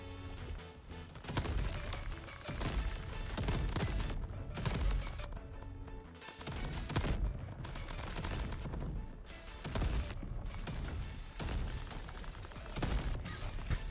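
Rapid gunfire from the video game Crab Champions rattles almost without pause, dense bursts of shots and explosive impacts that are loud and continuous, with brief gaps and no voices.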